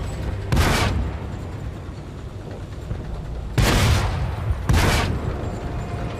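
Artillery fire in a video game lands as three heavy booms, one early and two close together near the end, each a broad blast that stands out over a low rumbling backdrop.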